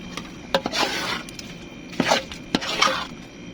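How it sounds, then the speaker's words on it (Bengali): A spoon stirs biryani in a pot after food colour, cardamom and cinnamon go in, giving a few scraping, clattering bursts against the pot over a low kitchen background. "এখন আমি রং, এলাচি, দারচিনি এগুলো সবগুলো দিয়ে দেবো, দিয়ে আবার ভালো করে নাড়িয়ে নেব"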